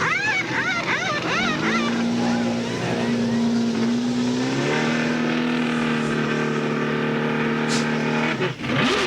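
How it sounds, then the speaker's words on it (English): Chevrolet NASCAR Winston Cup race car at the 2000 Winston 500 revving hard as it leaves a pit stop, a loud steady engine drone climbing in pitch and then holding, heard close up with faint crowd and track noise behind. "Engine revving on our pole center as the old Woodhall Chevy goes away"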